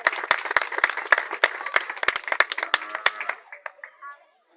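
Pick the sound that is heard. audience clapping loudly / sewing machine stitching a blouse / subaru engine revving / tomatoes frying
audience clapping loudly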